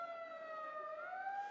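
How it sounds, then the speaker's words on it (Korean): A continuous wailing siren from a high-performance pump fire engine and an ambulance arriving at a disaster-response drill scene in Haeundae. The tone slides slowly up and stays steady and moderately loud, with no talk. "해운대 소방서의 고성능 펌프차와 구급차, 구조공작차가 현장에 도착하여"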